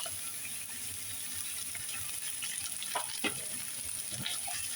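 Chopped onion for Ilocano papaitan sizzling in a hot pan, a steady close hiss of frying with a few scraping stirs toward the end, no talking.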